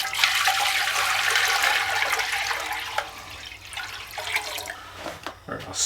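Water pours steadily into a large cooking pot for spaghetti, a continuous rushing splash that tapers off toward the end with a few clanks, and a voice faintly under it.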